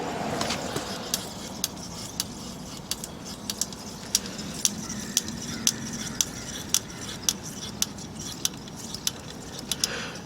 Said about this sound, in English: the compressor sounds fine when it's running. It just does that weird thing when you turn it off.